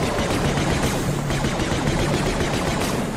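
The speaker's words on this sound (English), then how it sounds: "I can just shoot them there." Rapid gunfire in the Star Wars Death Troopers video game while shooting zombies, a dense continuous burst of shots layered with game sounds, loud and sustained for the whole stretch.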